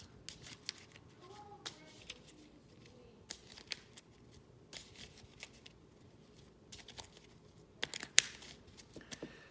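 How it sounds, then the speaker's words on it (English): Board game cards being shuffled during a wargame session, a run of soft papery riffles and snaps that comes in scattered bursts, fairly quiet and close, with no talk over it. "And let's get this shuffled."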